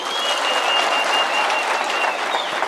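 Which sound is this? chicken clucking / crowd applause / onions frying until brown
crowd applause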